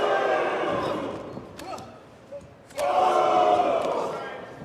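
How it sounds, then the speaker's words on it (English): A wrestling arena crowd in a Prince Puma versus Rey Mysterio match chants in loud sustained roars, with a short lull and a few thuds before the chant surges back. "Are the believers booing Prince Puma? No, or they're saying going boom."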